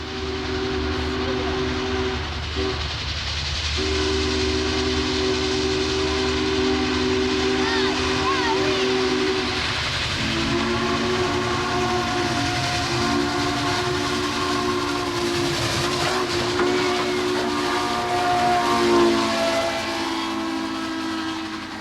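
Union Pacific 844 steam locomotive sounds its whistle in long sustained blasts with brief gaps, over the steady rumble and rolling of the train, loud and close throughout.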